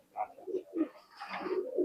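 Pakistani high flying pigeons in a loft give soft, close cooing calls in several short bursts, overlapping near the end.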